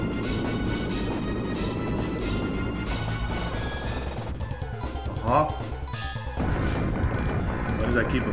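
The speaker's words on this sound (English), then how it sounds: "Avoiding those bombs." Bombs going off in the SNES game Contra 3: The Alien Wars, a dense run of crashing retro blasts and gunfire thumping steadily over chiptune music, with a brief lull midway and loud throughout.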